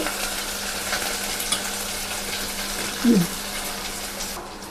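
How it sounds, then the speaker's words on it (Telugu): Ginger garlic paste fries in a pan for a ridge gourd yogurt chutney, giving a steady, fairly loud sizzle with a brief clink partway through. "అల్లం వెల్లుల్లి పేస్ట్ మంచిగా వేయాలి వేగుతుండగా"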